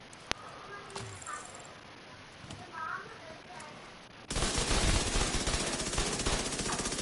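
SMG gunfire in The Division 2, a sudden loud, dense burst of rapid automatic shots that continues steadily after a quieter stretch of faint game ambience and small clicks.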